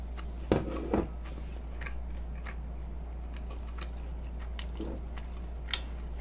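Close chewing of chewy glutinous-rice sweet and sour pork, with a few soft bites and squishy mouth sounds over a low steady background hum.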